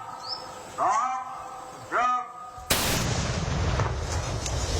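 Two short chirping calls, then a sudden loud explosion of a detonated ordnance charge booms and its rumbling roar carries on to the end.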